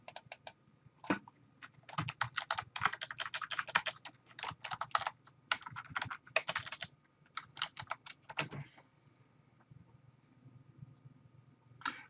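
Typing on a computer keyboard: quick clusters of light key clicks in irregular bursts with short pauses, close and clear, then trailing off into quiet near the end.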